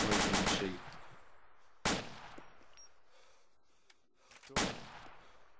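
Enemy machine-gun bursts in a video game: a rapid burst at the start, then two sharp single loud shots spaced a few seconds apart, each with a decaying echo.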